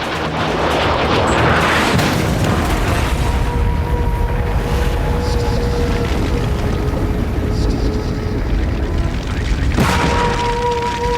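Two pilots eject from a jet on ejector seats, heard as a loud, sustained roaring blast with rumbling low noise that continues throughout, plus a whistling tone near the end.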